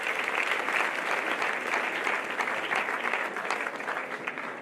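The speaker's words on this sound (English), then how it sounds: "Another round of applause for our director." Steady applause fills a hall at an education and leadership congress as the crowd honours the director, a dense, even wash of many clapping hands that holds for several seconds and fades slightly at the end.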